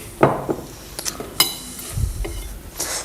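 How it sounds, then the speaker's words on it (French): Pie filling for a tourte, seasoned with pepper and nutmeg, mixed by hand in a bowl: a few soft, irregular squelching and stirring sounds with light clinks, close and moderately quiet, no talking. "On va mélanger le tout À la main."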